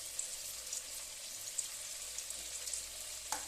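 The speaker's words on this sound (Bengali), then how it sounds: "এইগুলো এবার আস্তে আস্তে আমি উল্টে পাল্টে একটু হালকা হালকা লাল করে ভেজে নেব।" Veg manchurian balls made with flour and cornflour sizzle quietly in hot oil, a soft, even crackle with a few small pops and one sharper tap near the end.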